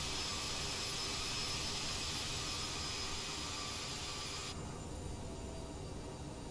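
CRJ-700 jet engines spooling up in a flight simulator game: a steady, loud, broadband roar holding constant throughout, with the bright upper hiss dropping away sharply near the end while the low rumble continues.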